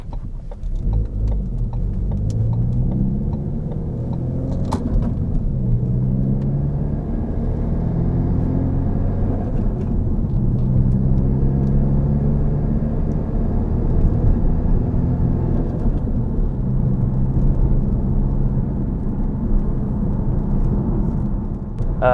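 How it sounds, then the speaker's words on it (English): Inside the cabin of a Ford Focus ST fitted with an AWE touring resonated exhaust, a steady low engine drone rumbles throughout, with gentle rises and falls in pitch as the revs change and no talking. "Finally got my AWE resonated touring exhaust on"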